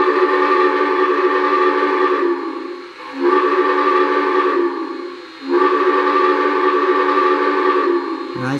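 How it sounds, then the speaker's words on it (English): A loud, throaty steam locomotive whistle from an MTH #4014 Big Boy sounds in three long blasts separated by brief dips, close and dominant. "Here's the whistle."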